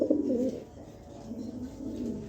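Pigeons coo nearby in soft, low rolling calls, with a fuller coo at the start and quieter repeated cooing later, with no talking over them.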